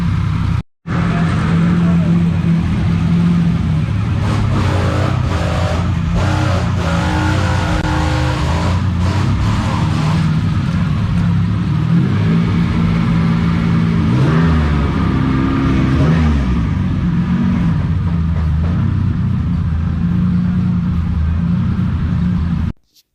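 Honda J-series V6 swapped into a Subaru STI fires up for the first time, settling into a loud, close, steady running note with a few blips of revving.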